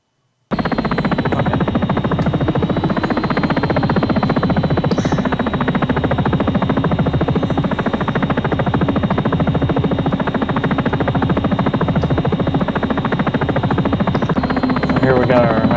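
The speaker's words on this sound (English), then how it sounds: "Here we got our nice little helicopter." A helicopter in the X-Plane 11 flight simulator at TNCM runs continuously, its steady loud rotor buzz and engine whine starting abruptly and holding constant throughout.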